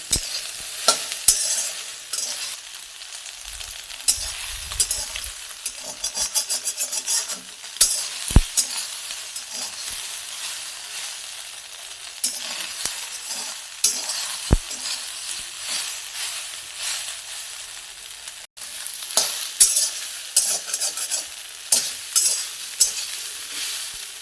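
Soybean chunks dry-roast in a pan, stirred continuously, with a constant dry rustling sizzle and repeated sharp scrapes and clicks of the spoon against the pan.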